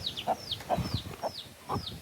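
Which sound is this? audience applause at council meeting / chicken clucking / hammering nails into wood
chicken clucking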